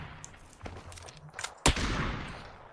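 Gunfire in an online shooter game: a few scattered shots, then one sharp loud blast followed by a dense burst of firing that continues to the end, with no speech over it.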